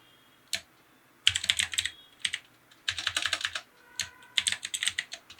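Computer keyboard typing comes in rapid clattering bursts of keystrokes separated by short pauses, close and clear with no talking.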